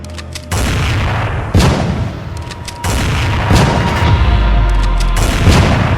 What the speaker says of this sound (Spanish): nuestros disparos resonaron